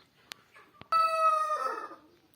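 A rooster crows once, a loud, clear call close by after a couple of faint knocks in an otherwise quiet setting.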